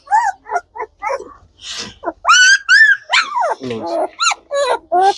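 Close high-pitched yips, whimpers and squeals from a female German Shepherd and her puppies, in quick irregular bursts.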